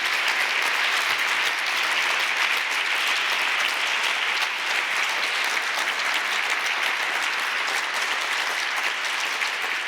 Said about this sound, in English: I would ask you to give them like a huge applause